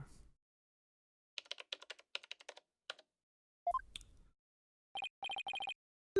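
Keys clatter on a computer keyboard in the Ace Attorney video game, quick light clicking bursts separated by pauses, followed by a short rising chirp and a run of rapid electronic beeps.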